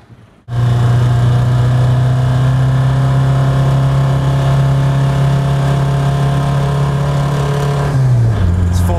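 A car engine revs hard and loud, held at a high, steady, strained pitch in second gear near 4,000 rpm, close up and continuous before easing off at the end.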